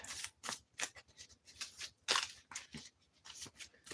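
Magic: The Gathering card deck being shuffled by hand, a run of quick crisp riffling and snapping bursts at an irregular rhythm, close and fairly quiet, with no talking.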